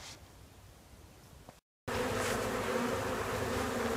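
Honey bees drone around a nucleus colony hive, a continuous buzzing that drops out briefly and then returns louder and denser, close and busy. No voices.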